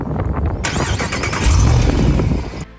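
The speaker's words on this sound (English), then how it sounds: "A Jeep starting up sound." A Jeep engine cranks briefly with a rapid starter chatter, then catches and fires up into a loud, rumbling idle with a brief rise in revs before cutting off, close to the mic.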